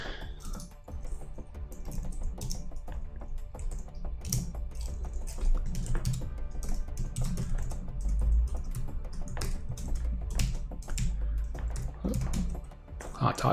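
Fast typing on a computer keyboard while writing Lua code, with rapid, irregular key clicks close up and steady throughout, and someone talking over the keystrokes.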